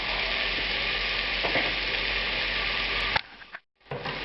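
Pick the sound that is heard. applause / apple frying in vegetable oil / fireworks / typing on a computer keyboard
apple frying in vegetable oil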